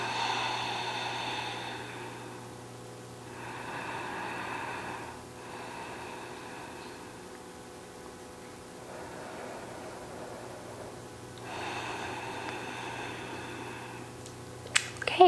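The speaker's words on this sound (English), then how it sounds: "Let's just take 3 breath cycles here together." Slow yoga breathing in mountain pose, several long audible inhales and exhales in a quiet room, soft and close with steady pauses between breaths.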